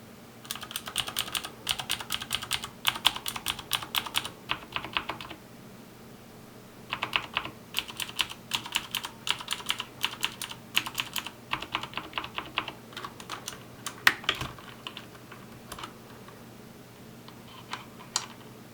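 Typing on an AJazz AK47 mechanical keyboard with non-clicky, non-tactile green-labelled switches: quiet, rapid bursts of key clacks in close, irregular runs with short pauses between them.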